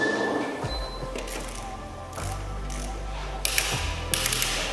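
A torque wrench tightens wheel nuts on a Ford Fiesta ST in a tyre workshop, giving several quiet mechanical ratcheting clicks and clunks at close range, with a few sharp clicks near the end over a low workshop hum.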